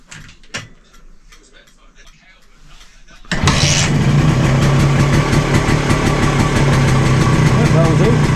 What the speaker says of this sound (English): Let's see what happens when the bike starts.